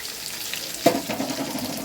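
Chicken balls fry in hot oil with a continuous close bubbling sizzle and a brief clatter partway through, with no voices.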